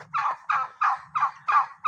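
A turkey gobbles five times in quick succession, each a rapid warbling burst, close and loud with short gaps between, on a farm with people herding it.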